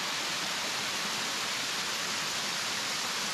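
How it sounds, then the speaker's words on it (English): Angel Falls, a mountain waterfall in Rabun County, Georgia, gives a steady, close, full rush of falling water that fills the whole clip without pause, and no voices are heard. "Get your hat all wet in the waterfall."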